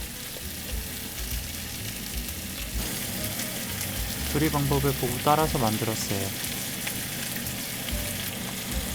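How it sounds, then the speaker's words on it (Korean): Dongpo pork with garlic sizzles in a pan as Paochai Dongpo sauce is added, a steady, close, crackling fry that runs the whole time, with a voice talking briefly over it midway. "소스를 넣고 2분간 조리하겠습니다."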